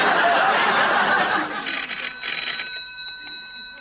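A telephone ringing in a comedy sketch set in a hotel room, rising over a burst of audience laughter and then ringing alone with a bright, repeating electronic tone.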